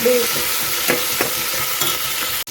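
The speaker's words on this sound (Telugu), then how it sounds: "అల్లం వెల్లుల్లి పేస్ట్ కూడా ఫ్రై అయిపోయింది బాగా." Ginger garlic paste fries with onions in a pan for a sweet corn vegetable biryani, giving a loud, steady sizzle broken by a few scraping stirs, with no talking.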